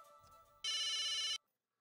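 A phone ringtone chirps loudly in a steady electronic trill for under a second, cutting off abruptly into silence, alone with no talk over it.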